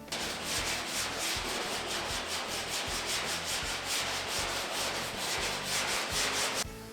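Hand block sanding of body filler on a car body panel during restoration of a Hemi car, a steady back-and-forth rasping scrape repeating rhythmically and close up, continuous until it stops abruptly near the end.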